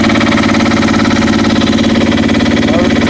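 A Yanmar C10R crawler's engine running at a steady idle, a loud, close, even mechanical drone with a regular rapid pulse and no talk over it.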